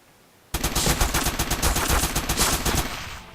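The starting gun in the top-down shooter Crimsonland opens up after a short quiet moment, a loud, close burst of rapid machine-gun fire lasting almost three seconds.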